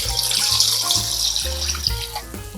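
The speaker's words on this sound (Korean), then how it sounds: "양념간장 만들어 놓은 거 부어주세요." Seasoned soy sauce poured from a container onto washed pork ribs in a pot makes a steady liquid splash and trickle throughout, close and continuous, with no talking.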